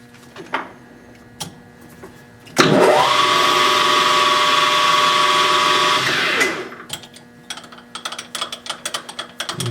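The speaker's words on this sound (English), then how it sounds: "I'm just going to take a 1/4 inch drill bit and go through it" A 1/4 inch drill bit bores through metal on an engine during degree wheel work, a loud sustained whine lasting several seconds that ramps up and winds down, set between quieter scattered clicks and handling noises.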